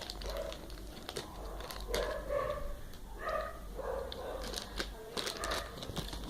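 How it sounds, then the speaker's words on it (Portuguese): A dog barks in short bursts inside a home, with a voice scolding it in the background. "Que ele late, minha mãe e a minha avó brigando com o meu cachorro, que ele late demais."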